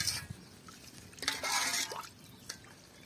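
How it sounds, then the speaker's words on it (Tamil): Water is poured from a tumbler into a cooking pot for village-style quail biryani, a short, fairly quiet splashing pour in the middle of the clip with faint drips around it and no talk. "அதுக்கு வந்து 10 டம்ளர் தண்ணி ஊற்றிக்கிறோம்."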